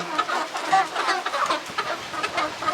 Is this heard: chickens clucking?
yes